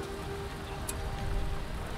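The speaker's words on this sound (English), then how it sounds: "I'm gonna use Freezing Rain" Freezing Rain spell in Battle for Middle-earth, an Isengard real-time strategy match, sounding as a steady hiss of falling rain with a brief bright sparkle midway, fairly faint and continuous over low rumbling game ambience.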